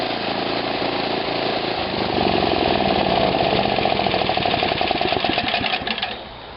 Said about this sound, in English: So we'll crank up the engine,